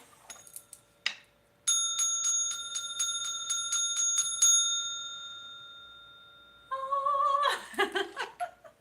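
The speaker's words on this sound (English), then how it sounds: "Let's ring the bell." A bell rung repeatedly in a quiet room, about eight bright, evenly spaced strikes with sustained ringing tones, followed by a brief burst of higher jingling near the end.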